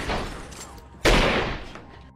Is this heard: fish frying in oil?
no